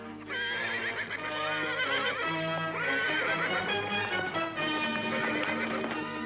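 A horse whinnies and neighs repeatedly with hooves clip-clopping, loud and close over a dense music score; the animal has thrown its rider and is running fast.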